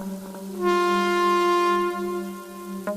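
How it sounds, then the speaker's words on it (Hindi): A long, loud train horn blast with a steady droning pitch sounds for a couple of seconds and then cuts off. There is no talking. "तभी उन तीनों के कानों में ट्रेन की हॉर्न की आवाज सुनाई देने लगी"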